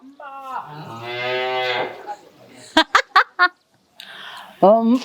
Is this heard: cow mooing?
yes